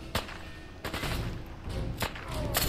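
Gunfire in the video game Fallout 4, several sharp loud shots spaced irregularly with busy game noise between them, close and punchy.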